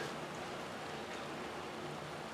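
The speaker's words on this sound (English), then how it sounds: "it's actually raining right now, but it's not too big" Steady soft hiss of light rain falling, even and continuous throughout, with no voices.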